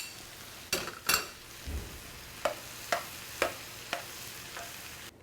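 Diced tomatoes go into a hot skillet for jambalaya, a faint sizzle under a few sharp utensil clinks and scraping stirs against the pan, spaced irregularly over several seconds.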